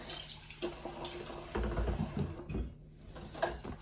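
A matcha whisk rinsed under a running tap, giving a close, uneven splash of water with brief gurgles and surges over a few seconds.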